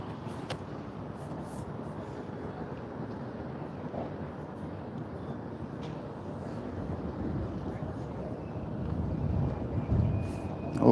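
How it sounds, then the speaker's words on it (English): Steady wind rumbling across an outdoor microphone, low and continuous, swelling a little louder toward the end. "Oh, it's a little windy out here."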